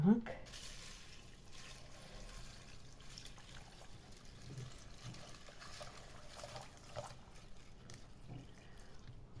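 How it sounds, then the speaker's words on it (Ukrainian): Water pours steadily into a cooking pot holding tea and salt, a continuous trickling stream at close range that runs without a break for several seconds, beginning with a brief knock. "Все це заливаю водою."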